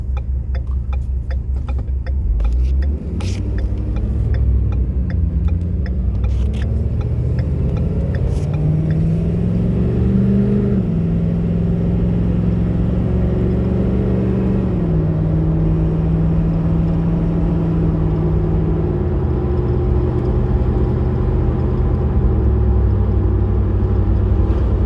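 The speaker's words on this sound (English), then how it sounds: "I'm going to get into it pretty hard on the acceleration so we can watch the turbo spool up" A 2016 Ford F-350 Super Duty dually with a 6.7L diesel accelerating hard from inside the cab, its deep engine drone climbing in pitch through each gear, dropping at the shifts, with turbo spool over steady road rumble.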